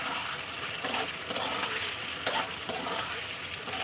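Tomato and green chili sautéing in hot oil, a continuous near sizzle broken by several brief stirring scrapes and splatters, with no speech over it.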